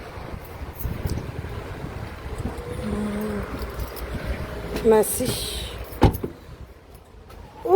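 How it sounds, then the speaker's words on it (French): An older man opens a car door by the road, a couple of short clunks and clicks rising over wind and outdoor rumble, with a voice speaking briefly nearby. "Il va m'ouvrir la porte."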